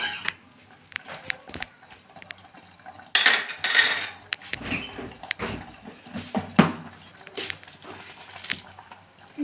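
Spoonfuls of sugar added to carrot halwa in a pot, with scattered metal spoon clinks and scrapes against the pot, close and fairly quiet, and a denser burst of clatter midway.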